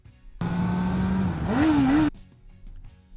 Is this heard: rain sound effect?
no